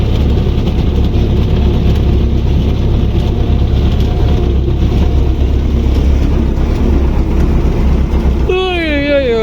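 A car's engine drones steadily while driving home, a loud, constant low hum that holds throughout, with a voice speaking briefly at the end.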